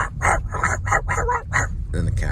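A person's voice imitates a pack of dogs barking up a storm, a rapid string of loud, close woofs and yips in quick succession, with a brief vocal sound at the end.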